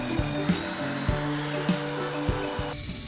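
A spinning wire wheel scrubs rust from the crevices of an old axe head, a steady motor whine with metallic grinding and periodic scraping bursts as the steel head is pressed against the bristles.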